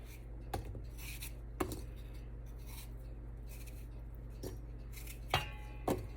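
Apples are cut into thin slices for an apple pie, giving a handful of quiet, sharp knife clicks against a board spaced irregularly over a steady low hum.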